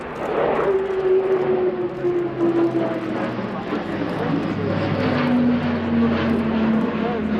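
Airbus A400M Atlas four-engine turboprop flying a display at RIAT 2019, RAF Fairford, speeding up to around 250 to 280 knots; a loud, steady propeller drone with a shifting engine tone, while a commentator talks over it.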